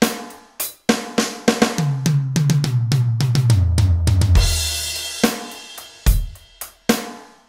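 A drum kit plays a fill in a 12/8 triplet feel, with sharp close snare and tom strokes rolling in triplet groupings down to deeper toms, a crashing cymbal wash, then a few spaced accented hits to finish.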